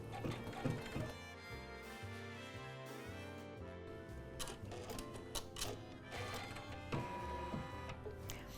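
Embroidery machine stitching rows that hold mini fringe in place for a tree design, a steady mechanical chatter of rapid needle strokes with rhythmic thunks throughout, close and fairly quiet.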